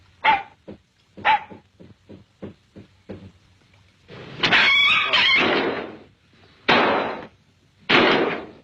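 A dog barks repeatedly, first in sharp spaced yaps at a steady rhythm, then in longer, louder, harsher bursts, close by with no talking.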